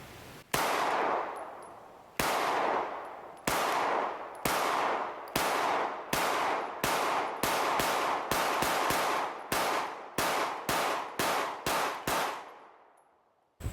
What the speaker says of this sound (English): the gun was definitely fun to shoot